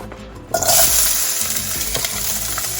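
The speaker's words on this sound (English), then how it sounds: "We're going to saute this until it becomes nice and soft" Habanero pepper is sauteed in a hot pan, a loud close sizzle bursting in suddenly and continuing as a dense crackling hiss with faint stirring.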